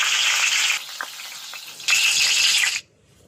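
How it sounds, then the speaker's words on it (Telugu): Green chillies fry in hot oil for egg pakodi, a loud bursting sizzle that eases for a moment, flares up again, then cuts off abruptly near the end. "నెక్స్ట్ పచ్చిమిర్చి ఫ్రై చేసుకోవాలి."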